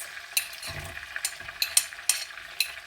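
Oil sizzles steadily in a pan over high heat while butter chicken is being cooked, with sharp clicks and scrapes from stirring at irregular intervals, close by and with no talking.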